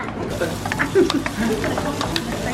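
A spoon scrapes and stirs oil around a wok during Thai stir-fry cooking, with soft sizzling and clinking metal scrapes over a steady kitchen background.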